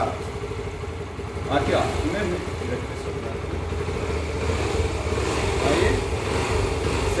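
A motorcycle engine runs in a steady, rumbling idle close by during work on a fast-blinking turn signal, while someone speaks briefly over it.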